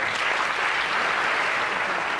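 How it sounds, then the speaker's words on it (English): A theatre audience gives a brief, dense round of applause for a volunteer coming up on stage, steady and evenly sustained throughout. "Let's give him a nice big round of applause, Joel."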